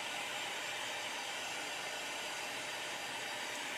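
A dryer blows a steady, loud, even rush of air over a painted craft project, with no break across the whole stretch and no voices.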